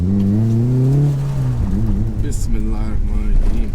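Close, loud engine note from a 700bhp Mitsubishi Evo held on launch control, with a steady high drone that breaks into choppy, wavering revs, and voices mixed in over the engine.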